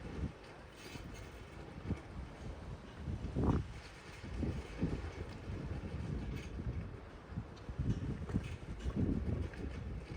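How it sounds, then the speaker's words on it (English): Wind buffeting a microphone outdoors during a dog training session, a low rumbling gusty roar that swells and dips, fairly faint with a few louder gusts. "it's getting windy"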